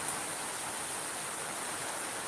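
Heavy rain pours down in a steady, even broadband hiss that stays the same throughout, without distinct drops or voices.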